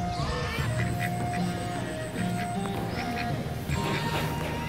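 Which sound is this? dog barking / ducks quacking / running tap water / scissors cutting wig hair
ducks quacking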